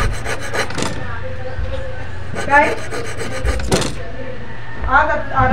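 A hand file rasps against a stainless steel fish hook in a series of short, near, gritty strokes with brief pauses between them, and no talking over it.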